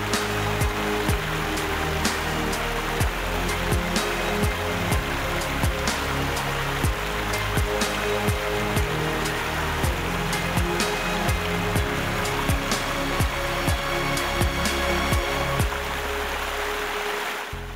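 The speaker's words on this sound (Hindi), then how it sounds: "पानी का शोर इतना मधुर जैसे कोई जल तरंग।" River water rushing among steep green mountains, a steady broadband roar with scattered splashes and crackles, continuous and close throughout, with no voices.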